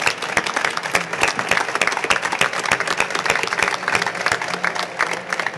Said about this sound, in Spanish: Yo quisiera dar un muy fuerte aplauso a ellos